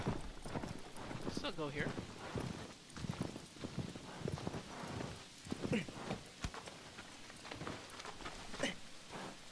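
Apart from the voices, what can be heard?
horse hooves clip-clopping in video game Shadow of the Colossus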